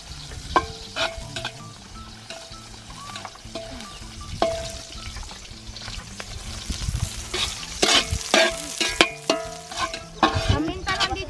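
Garlic and onion sizzle in a pan with a constant frying hiss. Scraping and clinking from stirring grow busier and louder toward the end.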